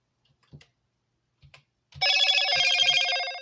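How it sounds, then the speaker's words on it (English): A mobile phone sounds a notification, a bright warbling electronic ring that starts suddenly and holds for about a second and a half, after a few faint taps in a quiet room. "My phone just going off because someone sent me a scam message"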